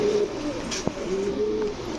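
Pigeons at a pigeon farm cooing softly in a few low, drawn-out calls, fairly close, with a brief flutter or knock partway through and no talking.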